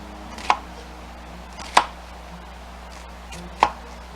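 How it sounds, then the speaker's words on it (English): Knife dicing an onion into small pieces on a cutting board: three sharp, isolated chops spaced about a second or two apart, close and clear against a quiet room with no talk. "So this onion, we want to get some nice, small cuts in it"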